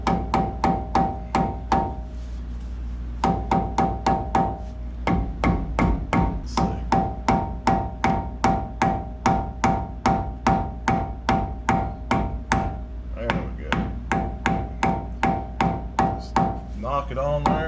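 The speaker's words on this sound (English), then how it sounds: "now we can take a little hammer here and just" A small hammer taps a greased part onto a 1992 Toyota being lowered. The close, crisp metallic taps come steadily in a long quick series with a few short pauses, and someone talks now and then.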